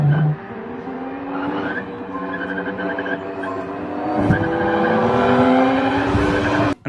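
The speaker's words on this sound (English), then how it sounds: "I've got a camera mounted to an old F1 car going through the streets of Monaco" An old Formula 1 car, AI-generated, drives through the streets of Monaco, its engine droning steadily and rising in pitch as it accelerates, close and loud from start to finish.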